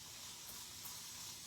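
A hand sprayer in a country barn, giving a short, continuous hiss of spraying water, faint and steady.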